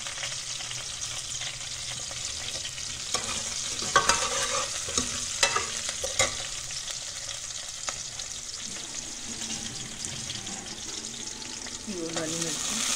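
Garlic and cumin sizzle steadily in a hot pan while a utensil stirs them, with a few sharper scraping clatters partway through and a faint watery trickle near the end.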